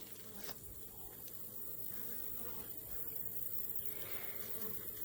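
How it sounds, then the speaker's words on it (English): A honeybee hive with a queen piping inside gives a steady, close, dense buzzing hum that fills the whole stretch at an even level, with no talking. "You've heard her piping, so she's piping to let the other ones know where she's at."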